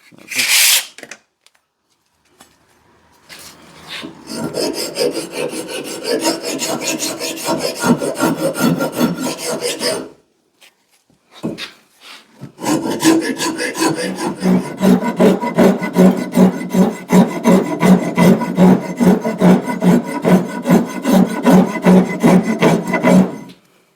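A wooden axe handle clamped in a vise is shaped with a rasp or file, loud rhythmic scraping strokes in two long runs separated by a short pause, the later strokes quicker and evenly spaced.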